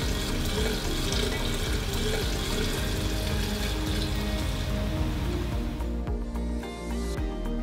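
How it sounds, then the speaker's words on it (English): Hot water pours steadily from a tap into the glass reservoir of an Organic Aromas Raindrop nebulizing diffuser, a continuous loud splashing rush that stops near the end. "Once this is done, you can put hot water in it."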